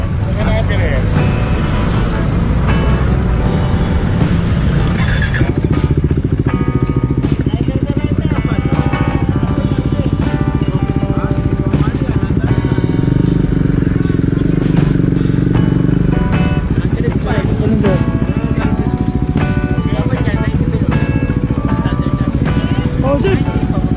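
A 400cc motorcycle engine runs steadily at half throttle, a loud continuous drone that fills the whole stretch, with people talking over it.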